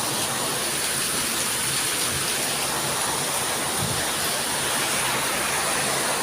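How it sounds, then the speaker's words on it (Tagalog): Heavy morning rain falls steadily outdoors, a dense, continuous hiss that fills the whole clip at an even loudness, with no voices or breaks. "It's morning, raining."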